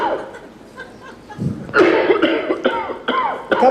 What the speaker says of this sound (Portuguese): o cara está tossindo tanto